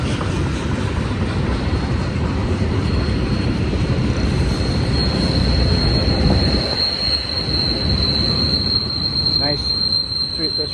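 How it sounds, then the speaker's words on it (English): Long Union Pacific manifest freight train climbing steep Cajon Pass, heard as a continuous heavy rumble of rolling railcars with high, sustained wheel squeal over it, loud and close. "Train should start picking up some speed once most of the weight gets on the eastern side."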